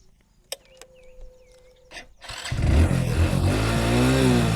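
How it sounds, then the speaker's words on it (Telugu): A motorcycle engine kicks into life after a few seconds of near silence with faint clicks, then runs loudly and close by in a rough, steady idle. "సో ఒకసారి బైక్ అయితే ఆన్ చేస్తున్నా."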